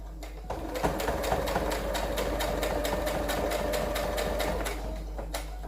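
Domestic sewing machine stitching a shirt sleeve, a fast even run of needle clicks over a mechanical hum for several seconds, stopping and then starting again with a couple of isolated stitches.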